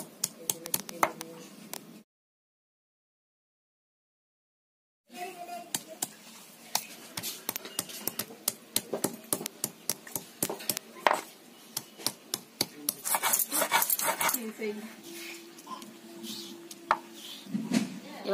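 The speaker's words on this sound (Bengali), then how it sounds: "এবার আদা রসুনটা বেটে নিই।" A village cook grinds ginger and garlic into a paste, probably on a grinding stone, making a steady run of close, rhythmic knocking and scraping strokes broken by a short silent gap.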